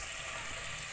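Spiced masala sizzles steadily as it fries in a pan for chole, a dense continuous crackle with no talk, ending in a sharp brief burst.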